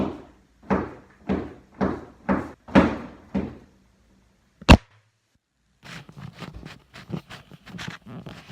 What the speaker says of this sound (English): his doors open and then close themselves a couple times